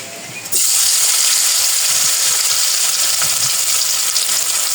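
Paneer fries in hot oil, a loud dense sizzle that bursts in suddenly and then holds steady and close, with faint bubbling crackles underneath.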